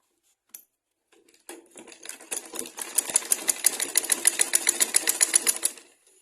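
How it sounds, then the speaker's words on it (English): A sewing machine stitches kimono fabric, starting with a few short bursts and then settling into a steady, fast mechanical run of rapid rhythmic clatter, loud and close, with no talking. "So now we'll place the sewing machine here and we will sew."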